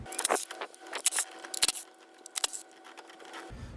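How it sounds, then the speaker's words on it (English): Metallic clinks and rattles sound as ignition coils come off a 2008–2013 Nissan Rogue engine with a 10mm socket, scattered sharp taps and jangles at close range, fairly quiet. "Now let's remove the coils using a 10mm socket."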